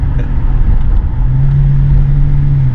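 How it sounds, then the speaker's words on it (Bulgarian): BMW 535xi E61 wagon engine held at full throttle, a deep, steady droning roar with a sustained low tone rising slightly midway, loud and close with no voices. "Ето пълната газ! TDS Power!"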